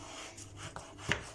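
A knife slices thinly through white cabbage on a cutting board, giving a few soft, close chopping strokes with one sharper knock near the end.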